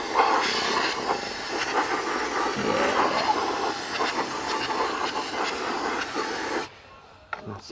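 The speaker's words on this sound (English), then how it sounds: "leave it soaking with some brake cleaner down there" A can of aerosol brake cleaner sprays in a long, steady, close hissing jet for several seconds, then cuts off abruptly, leaving near silence and a faint knock.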